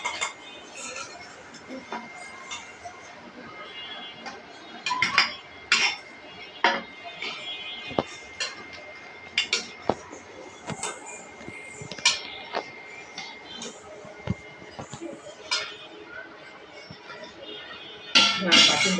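Fried fritters lifted out of a pan with a metal utensil: scattered sharp clinks and scrapes against the pan come at irregular intervals, with a soft background hiss and one louder clatter near the end.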